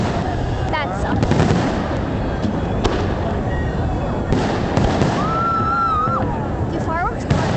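Fireworks over Central Park crackle and boom continuously at a moderate distance, with whistling rockets rising through the din and a dense, steady roar of bursts throughout.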